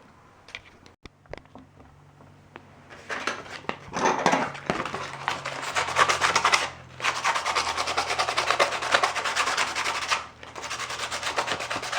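A metal door hinge being scuffed by hand before painting, heard as a steady, close abrasive rubbing that starts after a few light knocks and runs continuously with one brief pause.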